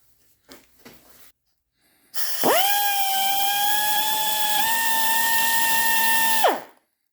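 An electric grinder cuts a pocket into an old chain hoist pulley, about 120 years old, for welding: after a few faint knocks it spins up with a sudden high whine, holds a steady loud grinding tone for about four seconds, then winds down, with no talk.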